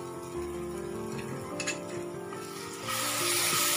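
Cashews, pistachios, dates and figs roast in a pan with a soft, steady sizzle and occasional scraping stirs, growing a little louder near the end.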